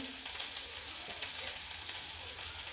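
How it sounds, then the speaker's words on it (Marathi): Bitter gourd sizzles steadily in hot oil in a kadai, a dense even frying hiss heard close up for a few seconds, with no talking. "तोपर्यंत आपल्याला हे कारलं आहे ते छान तेलामध्ये परतून घ्यायचं"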